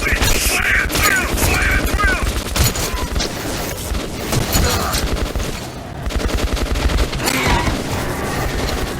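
Gunfire volley in the video game Metro 2033 Redux, rapid overlapping shots and bursts crackling densely for several seconds with mechanical clatter, loud and close, briefly easing midway before resuming.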